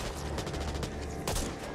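Rapid gunfire from an M16 assault rifle in the zombie shooter Back 4 Blood, a dense rattle of close shots followed by a sharper louder burst.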